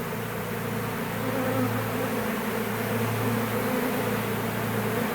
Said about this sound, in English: See, they're still trying to get back on that branch.